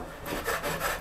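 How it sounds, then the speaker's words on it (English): A drywall knife scrapes across drywall around a small anchor hole, evening out the edges in a few rough, rasping strokes close to the listener, with no talking. "Take your drywall knife like this, or a paint scraper, or any of that of sort, and just,"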